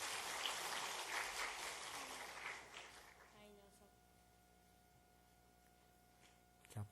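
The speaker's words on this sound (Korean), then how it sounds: "우리 박수 한번 쳐줄까요?" A church congregation at Sunday worship applauds, a faint patter of clapping for about three seconds that fades into quiet room hum.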